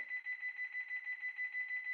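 An alarm sounds as rapid, evenly pulsed electronic beeps, steady and fairly faint, with no voices.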